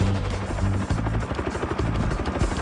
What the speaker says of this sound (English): The Huey is, of all these helicopters, the greatest of all time.